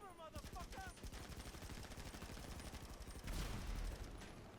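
Rapid gunfire in the GTA Online video game, dense bursts of automatic shots rattling continuously during a combat mission, with a louder blast near the end and faint game sounds underneath.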